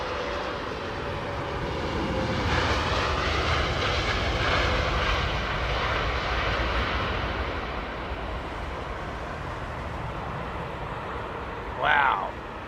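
Airliner landing at Heathrow with heavy aerodynamic braking, a broad loud roar of engine and rushing air that holds for several seconds and slowly eases, with a brief voice near the end.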